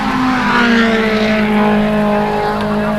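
Touring race cars, including a BMW M3, scream past on the main straight at Surfers Paradise International Raceway in 1987. Loud, close engine notes fall in pitch as they pass, with several cars overlapping and no talk.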